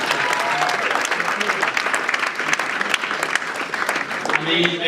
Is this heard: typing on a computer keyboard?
no